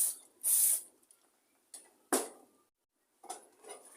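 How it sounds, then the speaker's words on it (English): Carb cleaner sprays onto a Stihl FS 38 line trimmer carburettor in several short hissing bursts separated by quiet gaps, close and fairly soft. "take some brake cleaner or carb cleaner, what you got"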